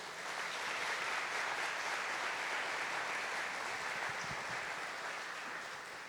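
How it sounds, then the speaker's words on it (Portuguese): A church audience applauds steadily during a Catholic talk on spiritual combat, a dense, sustained wash of clapping that holds at full level for about six seconds before easing slightly at the end, with no voices over it. "Você pode aplaudir a palavra de Deus?"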